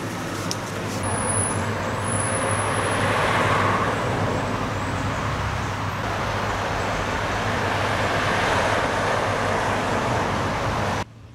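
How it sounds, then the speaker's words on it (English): Steady roar of passing traffic on the A610 road, cars and heavier vehicles blending into a continuous wash of engine and tyre noise, fairly close, with no voices. "I can hear the traffic on the A610 now."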